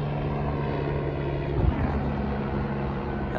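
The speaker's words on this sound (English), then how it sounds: "Helicopter passing by." A helicopter passes overhead, its steady rotor drone holding throughout with a slight swell in the middle, moderately loud and alone.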